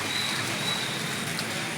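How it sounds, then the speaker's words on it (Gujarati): Heavy rain falls in Khambhalia, a dense, even hiss of downpour filling the short stretch, steady and alone without voices. "ખંભાળિયાની અંદર જોરદાર વરસાદ થઈ ગયો"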